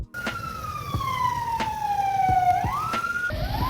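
North Macedonian ambulance siren sounding a slow descending wail that sweeps back up, loud and close, with sharp clicks and road rumble beneath.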